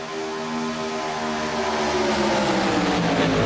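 A steady engine drone with harmonic tones building gradually, like race cars roaring around a track, continuous and loud with no voices. ARCA race cars at Talladega in a racing video game.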